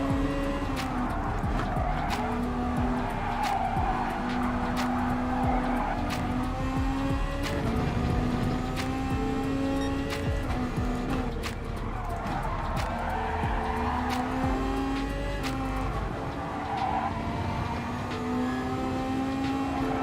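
Car tires squealing and skidding in Gran Turismo Sport as the driver warms them up, long wavering screeches over a steady engine drone, continuous and fairly loud throughout.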